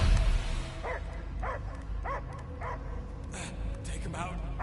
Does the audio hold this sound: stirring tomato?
no